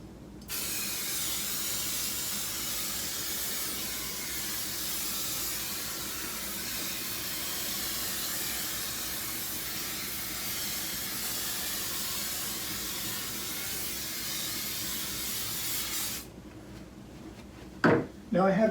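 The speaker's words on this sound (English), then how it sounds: "Now I'm just going to throw that up there and spray the rest." Basting spray misted over layered quilt fabric with felt appliqué shapes, a steady continuous hiss lasting most of the clip, then stopping into a few brief handling noises near the end.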